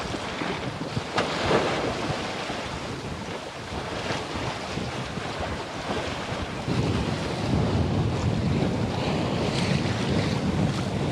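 A sailboat under way in 13 knots of wind off Malta in the Mediterranean: a steady roar of wind buffeting the microphone over rushing water and waves against the hull, continuous and close, with no talk.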